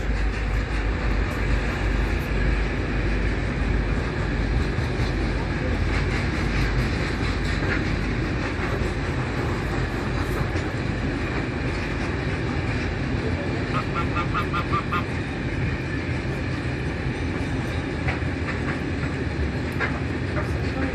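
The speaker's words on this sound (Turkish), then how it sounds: "Tren gidiyor" A train on the Karabük line rumbles past a village steadily, a dense continuous roar with rattling wheel noise and a brief higher clatter partway through.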